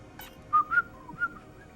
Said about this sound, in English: it's been a while since I whistled, honestly